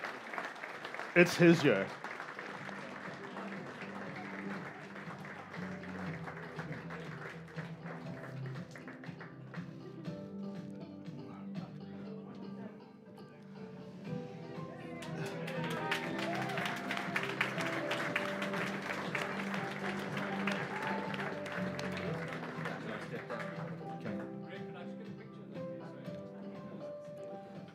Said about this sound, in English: One big round of applause for the connections of Dave the King